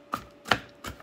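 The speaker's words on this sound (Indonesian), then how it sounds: "agak dicincang sedikit ya." A knife chops pumpkin shoots on a cutting board in three sharp, close, evenly spaced strikes with no talking.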